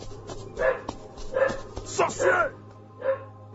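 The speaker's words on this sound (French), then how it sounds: "Ça, c'est le chien des sorciers." A dog barks and yips several times in short bursts, mixed with a person's excited speech.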